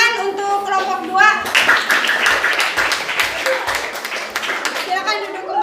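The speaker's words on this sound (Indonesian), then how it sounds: "Beri tepuk tangan untuk kelompok 2." A classroom of Indonesian students claps together for a presenting group, with dense, sustained applause over several seconds and children's voices calling out through it.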